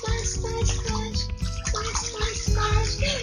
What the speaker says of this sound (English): by taking his arms out of the water and splashing like this